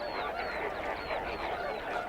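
Greater flamingos calling from a salt lake feeding ground, a dense continuous goose-like honking chorus of many birds at moderate distance with no talk.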